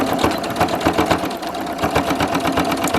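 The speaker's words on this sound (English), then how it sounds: "we're stitching down the folded edges of the pocket" A sewing machine stitches down the folded edges of a fabric pocket piece about a quarter inch from the edge, a steady, loud, rapid mechanical chatter running throughout with no voices.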